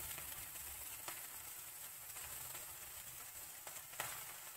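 Brinjal frying in a spice tempering while being stirred, a soft, quiet sizzle running steadily with a few light scrapes of the spoon.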